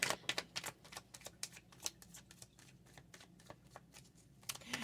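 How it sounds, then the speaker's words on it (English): Tarot cards are shuffled in a quick, faint run of dry riffling clicks and flicks, close to the microphone and steady throughout, with no voices. "let me get a couple more cards"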